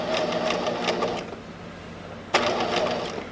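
A sewing machine stitches a lapped zipper in a fast, steady whir, stops for about a second, then starts again with a sharp onset and keeps running.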